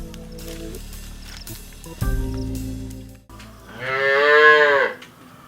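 A dairy cow in a shed gives one long, loud, close moo after some clanking and mechanical background noise on the farm; no one speaks.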